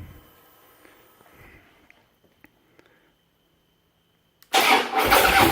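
A Harley-Davidson motorcycle engine catches and starts after a few quiet clicks and faint handling noises, bursting into a loud, steady, close rumble that fills the last second.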